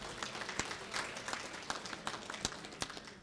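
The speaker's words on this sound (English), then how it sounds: "if you could give them a round of applause" Audience applause at a tribal leaders economic summit, a steady wash of many hands clapping at moderate distance, with sharper individual claps popping out over the crowd sound.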